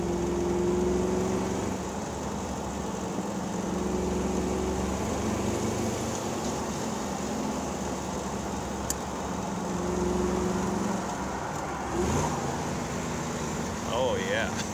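A 1961 Chevrolet Corvette with a fuel-injected 283 V8 drives along at a steady, low engine drone, rising slightly at moments, with faint road noise.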